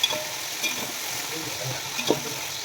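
Green chillies, onion, mint, fenugreek leaves and coriander frying in a pan for home-style mutton biryani, giving a continuous soft sizzle with a few faint clinks of stirring and no voices.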